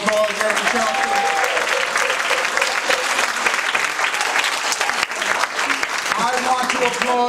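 Loud, sustained applause from a crowd at a Dr. King Day gathering, continuous dense clapping with occasional whoops and voices mixed in, holding steady throughout.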